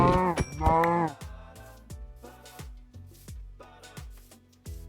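Several cows moo in Minecraft, the blocky farm animals lowing one after another in a loud overlapping burst at first, then a series of shorter calls with brief gaps, with no talk over them.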